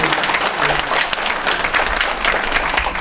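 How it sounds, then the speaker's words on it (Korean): An audience at a book concert in Daegu applauds warmly, dense continuous clapping from a crowd filling the space and holding steady throughout. "뜨거운 박수 부탁드립니다"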